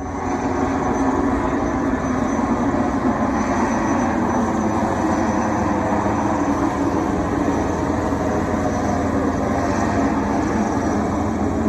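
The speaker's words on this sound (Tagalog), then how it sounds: "Isang Chinese Navy helicopter ang lumipad sa itaas ng mga barko ng Bureau of Fisheries and Aquatic Resources" Chinese Navy helicopter flying overhead above fisheries bureau vessels at sea, a steady, loud, continuous rotor and engine drone that holds evenly throughout with no talk.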